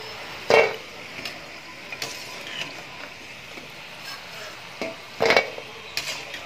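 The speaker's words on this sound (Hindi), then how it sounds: "इसे थोड़ी देर और हम लोग ऐसे ही ऑयल में फ्राई करेंगे अच्छे से।" Aloo rice balls deep-frying in hot oil give a steady, soft sizzling hiss, broken by a few sharper clicks and knocks, likely from a spoon against the pan.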